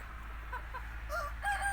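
Naked-neck chickens in a farmyard give a few faint, short clucking calls close by over a quiet, low background.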